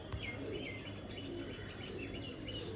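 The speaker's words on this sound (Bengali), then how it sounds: "পুরো একদম অ্যাক্টিভ পায়রা" Active Girbaz and Madras pigeons with clipped wings coo softly, with low murmuring calls mixed with light chirps, close by and steady through the short stretch.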